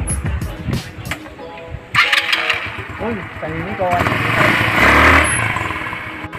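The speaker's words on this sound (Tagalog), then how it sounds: "Testing ko yung motor ni sir." A Rusi Passion SC125 motorcycle engine idles and then revs up during a test ride, growing louder and rougher toward the end, while someone speaks briefly over it.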